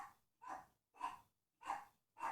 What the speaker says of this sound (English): I was just checking the audio level to see if you can actually hear the Chihuahua.